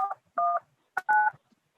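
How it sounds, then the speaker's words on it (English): Telephone keypad tones as a meeting ID and pound key are entered during a remote legislative hearing: four short, clean DTMF beeps in two pairs, isolated against silence. "just press pound to continue"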